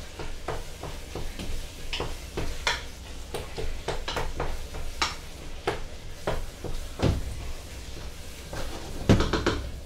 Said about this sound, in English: Now I gotta stir.